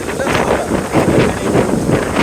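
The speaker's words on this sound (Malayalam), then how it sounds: "നല്ല രീതിയിൽ കാറ്റാട്ടോ" Strong cold wind buffets the microphone outdoors during a cycling trip, a loud, continuous rushing roar that swells and dips in uneven gusts.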